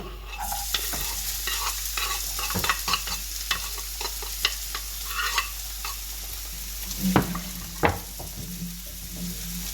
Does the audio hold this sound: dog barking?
no